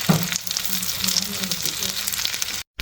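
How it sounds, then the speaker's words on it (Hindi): Chicken and potato cutlets fry in a pan with a steady, close crackling sizzle that continues throughout, broken only by a brief dropout near the end. "अब मैं इसके फ्राई होने तक का वेट कर रही हूँ।"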